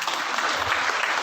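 Loud, dense applause from an audience at a business success-story event in Nepal, a continuous close wash of clapping across the whole moment.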